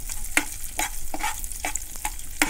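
Raisins frying in ghee in a pan, a close crackling sizzle broken by a few sharp stirring scrapes at a brisk irregular rhythm, with no talking.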